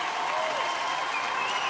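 A TV talent-show studio audience applauds after a soul and rhythm-and-blues performance, a dense, steady wash of clapping, loud and close, with crowd voices mixed in.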